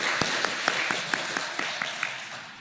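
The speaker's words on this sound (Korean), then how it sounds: "우리 예산위원들에게 좀 박수로 격려해 주시면 고맙겠습니다." Church congregation applause during a third Sunday of Advent service, a short burst of clapping with a few distinct nearby claps standing out, fading off after about two and a half seconds.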